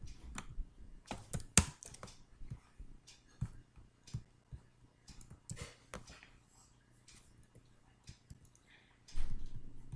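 Rapid clicking of keys on a computer keyboard while code is typed, bursts of keystrokes spread unevenly across the span with short pauses and a louder flurry near the end, close and dry with no talk.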